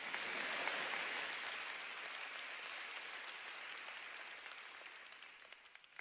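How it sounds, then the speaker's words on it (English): A large audience at a Nick Vujicic No Limits event in Singapore applauds, a broad wash of clapping that starts strong and slowly thins and fades over several seconds. "yeah, you can applaud that if you want"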